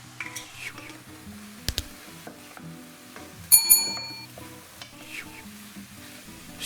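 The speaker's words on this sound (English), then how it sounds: "Stir and toss them in the pan to make sure all the apples are coated in the spices." Spiced apples dusted with ground cinnamon and freshly grated nutmeg sizzle softly in a pan while being stirred and tossed, with scattered clinks and scrapes of utensil against metal.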